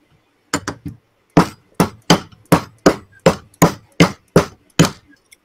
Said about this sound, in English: When you don't have a hammer, you use a wrench instead.